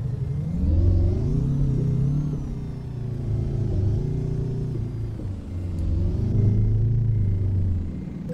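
A heavy truck engine in American Truck Simulator rumbles and revs up loud and close, its pitch rising and falling as it builds speed for a climb.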